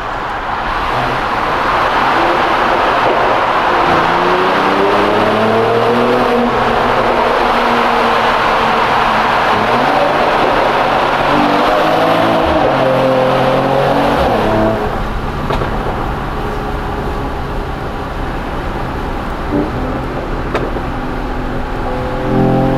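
A Mercedes-AMG E53 engine revving while driving on a test drive, heard from inside the car with repeated rising and falling revs, loud and close, and no talk over it.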